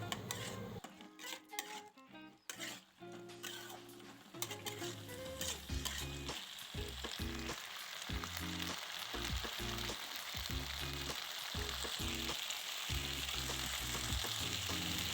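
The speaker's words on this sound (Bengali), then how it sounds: "স্বাদ মতো লবণ দিয়ে আবার পুরোটা ভালো করে নেড়ে চেড়ে নেব।" Chili chicken sizzles and fries steadily in a hot wok while a utensil scrapes and clatters against the pan in irregular strokes, close and continuous, with no talking.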